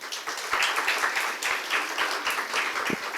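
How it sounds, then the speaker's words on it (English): An audience at a life sciences conference claps steadily for a speaker, a moderate, continuous patter of many hands with individual claps standing out here and there. "another round of applause for Dr."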